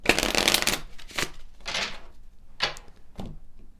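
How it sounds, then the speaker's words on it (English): Cards from a Kipper oracle deck being shuffled and slid out, close and crisp, in several separate riffling and sliding bursts with short gaps between them. "Pull some additional cards from the Kipper Oracle deck"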